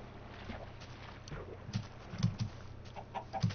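Minecraft chickens cluck in short, scattered bursts over a low ambient background, several soft calls close together at moderate loudness without talk.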